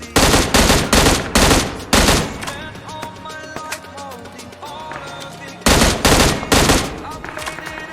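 Rapid bursts of M16 fire in a video game crack out loud and close, two volleys framing a quieter stretch of game sounds and voice in between.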